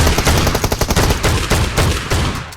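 Rapid automatic gunfire from a PUBG Mobile match, loud dense bursts of repeated shots with a steady rattling rhythm throughout, no talking over it.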